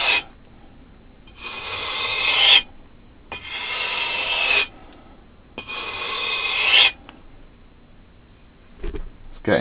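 A knife blade rasps across a cheap sharpening stone in three long, gritty strokes with pauses between them, followed by a brief knock.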